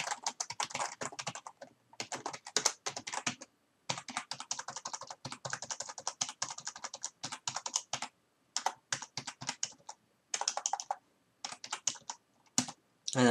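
Bursts of fast typing on a computer keyboard while router configuration commands are entered, close and crisp, with short pauses between runs of keystrokes and no voices.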